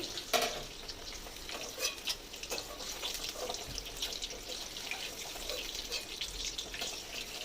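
Chicken eggs frying in oil in a pan, a steady crackling sizzle running throughout with occasional scraping stirs and light clatter.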